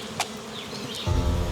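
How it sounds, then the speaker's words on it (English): Bees at a hive inside a tree trunk, swarming up as smoke is worked into a small opening; a steady close buzz with faint high whines, thickening into a louder, denser drone near the end. "By opening up the small hole in the trunk, the smoke should repel the bees and let the men explore the hive."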